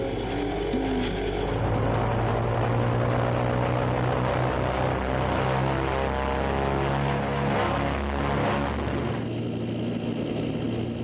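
A propeller airplane, a small medical flight in Colombia carrying a two-month-old baby, runs its engine up loudly and steadily throughout, the droning hum rising in pitch as it starts its takeoff.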